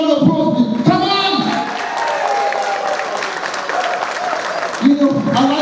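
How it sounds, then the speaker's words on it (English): Applause from the audience at a St Lucian achievements award ceremony, a dense run of clapping that swells under and between a man's amplified speech. "So give yourselves a big round of applause."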